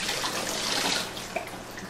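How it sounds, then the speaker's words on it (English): Salt water pours out of a container of soaked eggplant as it is drained in a kitchen, a steady close splashing and trickling stream that tapers slightly toward the end. "I just strain out the salt water. Drain out the salt water."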